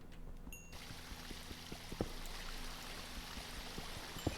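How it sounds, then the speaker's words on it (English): Faint, continuous flowing water from a stream in a video game, a soft steady rushing with scattered small clicks and drips and no talk over it. "Ah, flowing water sound."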